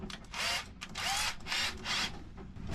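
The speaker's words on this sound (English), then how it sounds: "Now we'll drill a hole in it and get that bush in there." A power drill whirs in repeated bursts, drilling a hole for a bush on a trim tab tiller pilot aboard a sailboat, cutting about half a second each time with short pauses, close and fairly loud.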